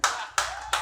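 In a comedy club, a small audience answers the comedian with just a few scattered hand claps, three separate bursts in quick succession with a roomy echo.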